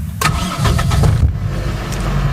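A 1995 Toyota Great Corolla AE102 engine cranks with a few quick starter pulses, catches almost at once and settles into a smooth, close idle.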